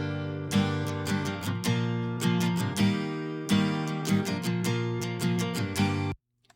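Dry guitar part from a song, a loud sustained strummed chord pattern with rhythmic accents, playing alone for about six seconds before cutting off abruptly.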